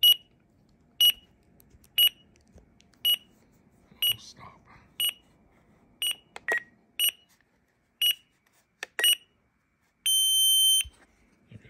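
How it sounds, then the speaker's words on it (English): An RC transmitter's throttle timer alarm, heard while setting up differential thrust on an E-Flite Twin Otter, sounds a steady series of short, sharp beeps about once per second, then ends with one longer sustained tone. "That's just the throttle timer."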